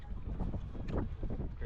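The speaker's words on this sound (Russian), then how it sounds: "Вообще тут постоянный ветер" Steady wind gusting across a bay where kitesurfers ride, buffeting the microphone in low rumbling surges with no voices.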